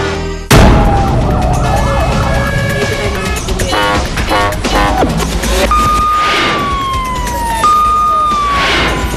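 Fire truck siren wailing at a fire scene, a loud sweeping tone rising and falling continuously over a busy, noisy background from start to finish, with bright tonal bursts that shift pitch midway.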